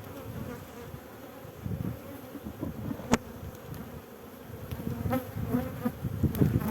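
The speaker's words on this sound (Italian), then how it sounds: "vedo api che fanno la danza, quindi hanno trovato qualcosa" Honeybees buzz steadily at an opened hive nucleus during an early-spring inspection, a continuous close-up drone with fluctuating intensity and a sharp click partway through, no voices.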